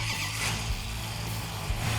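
Car engine with a lumpy, thumping cam idling steadily and loudly up close, a deep rhythmic rumble with no talk over it.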